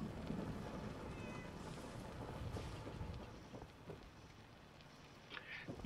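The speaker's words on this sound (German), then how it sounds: "Ich muss euch sagen, es gewittert gerade sehr." Stormy weather in Fallout 4, steady rain noise and low rumbling of thunder forming a continuous wash, with a brief cat meow early on and a sharper burst at the end.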